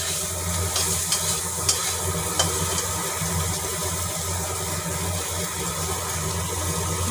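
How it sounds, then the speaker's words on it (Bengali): Ridge gourd frying in a pan with a little oil, a steady close sizzle with faint stirring clicks running throughout, with no voices. "এখন ঝিঙেটা ভেজে নিচ্ছি।"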